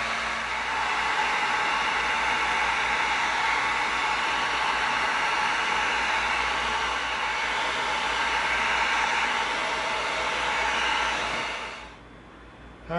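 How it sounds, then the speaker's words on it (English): A heat gun blows hot air to seal EVA foam, giving a steady, loud, airy roar for about twelve seconds before it cuts off abruptly. "let's bring in our heat gun"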